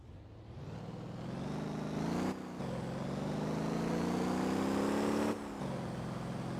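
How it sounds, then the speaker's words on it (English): Simulated car in Motor Town: Behind the Wheel doing burnouts in second gear, a loud, steady engine drone climbing in pitch with two brief dips where revs drop, then holding high, with no talking. "Doing burnouts in second."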